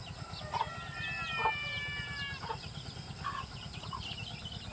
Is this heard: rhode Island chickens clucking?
yes